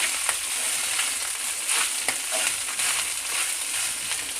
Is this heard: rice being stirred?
yes